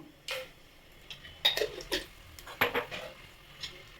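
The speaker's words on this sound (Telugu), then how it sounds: "షాయి జీరా వేసుకుందాం. బిర్యానీ ఆకు బిర్యానీ ఫ్లవరు, అది యాలక్కాయలు వేసుకుందాం." Whole spices such as shahi jeera, bay leaf, star anise and cardamom dropped into a pan for chicken biryani, giving a few sharp metallic clinks and brief rustles against a quiet background.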